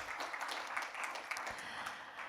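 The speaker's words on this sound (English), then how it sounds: "Big applause, of course, for Nasib." Faint, distant audience applause at a food tech startup pitch final, a soft continuous patter of many hands clapping in a large hall.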